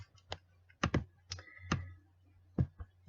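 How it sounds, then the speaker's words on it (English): Typing a name on a computer keyboard while programming a micro:bit: a few sharp, separate key clicks at an uneven pace, close and clear, with no talk. "And then we're going to type in our name."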